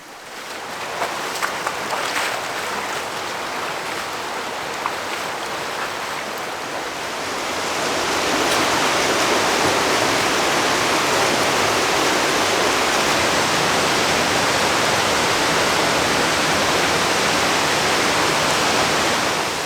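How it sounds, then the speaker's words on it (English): Canara Falls in a snowy winter setting roars as a steady, broad rush of falling water, growing louder and fuller partway through as if approached, continuous with no talk. "This is the main attraction of this hike. This is Canara Falls."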